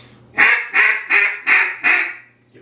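A duck call is blown in five consecutive whistle notes, each a loud, evenly spaced quacking burst close to the microphone, followed by silence.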